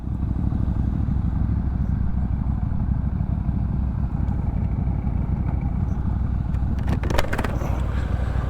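A small, lightweight Benda motorcycle engine rumbles steadily while riding, a continuous low drone at an even level, with a short clattering burst near the end.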